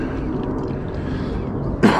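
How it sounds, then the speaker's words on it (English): A single short cough bursts out near the end, loud and close, after a stretch of low rumbling background noise. "Sorry about this cough, it's annoying"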